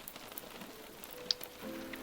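Rain falls steadily outdoors, a soft continuous hiss of drops pattering on a surface, with an occasional sharper drip standing out; faint and even throughout, no voices.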